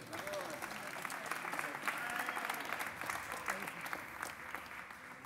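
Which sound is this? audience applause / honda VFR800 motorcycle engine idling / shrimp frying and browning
audience applause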